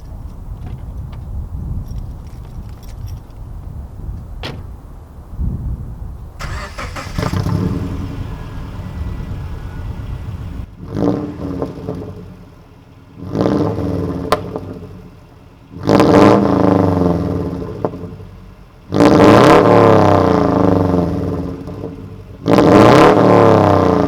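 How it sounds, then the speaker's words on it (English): A Subaru Impreza fitted with a UEL header starts up and then revs in repeated loud bursts over a steady, rumbling idle, each rev climbing and then dropping back. "I'll start it up and do a 2K rev"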